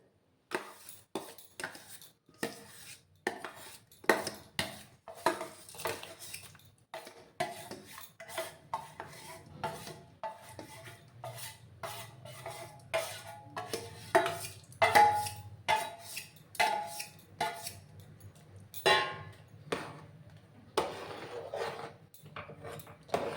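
A spoon stirs ghee-coated Gobindobhog rice in a metal pot for kheer with jaggery, making steady scraping and clinking strokes close by with no talk.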